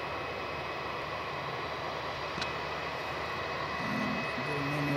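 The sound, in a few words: ATR aircraft from Wellington going around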